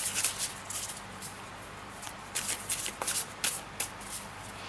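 Tarot cards riffled and shuffled by hand in a series of soft, papery bursts, some close together and some spaced apart, faint and close with no talking.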